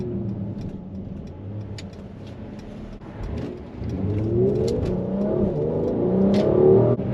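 Mercedes-AMG GLC 43 engine heard from inside the car as it downshifts, a steady mid-pitched drone that dips, then climbs as revs rise in sweeping harmonics, loud and close with a few light clicks and no talking.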